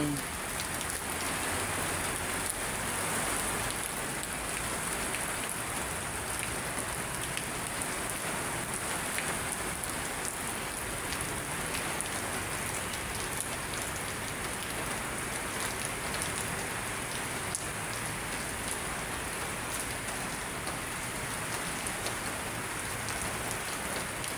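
Heavy rain keeps falling at Manila Bay at a constant level, a broad wash of close drumming drops that never lets up.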